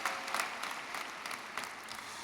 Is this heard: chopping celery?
no